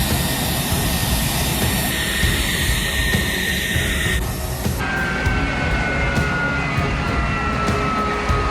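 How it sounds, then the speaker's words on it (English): A US Air Force F-16 Fighting Falcon's jet engine roars on a runway before takeoff, a loud, continuous broadband rumble with whining high tones that shift partway through and hold steady to the end. "The roar of the engine echoed across the entire runway as the F-16 Fighting Falcon prepared for takeoff."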